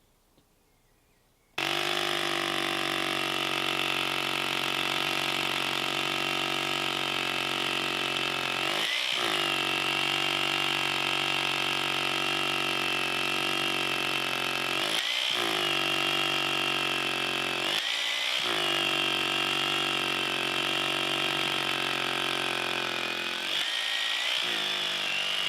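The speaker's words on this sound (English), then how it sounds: "So now we'll move on to drilling holes." A power drill bores holes through plywood formwork, its motor whining loud and steady for most of the stretch, broken by a few brief pauses between holes.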